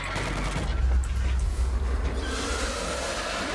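Rapid gunfire in the World War Z video game, a steady rattling stream of shots over a low rumbling background, loud and continuous, fading slightly toward the end without distinct speech.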